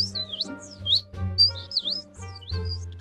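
A male singer beatboxes an imitation of a small bird, with a series of bright, sliding chirps and whistles over a low vocal hum, close and clear with no other talk.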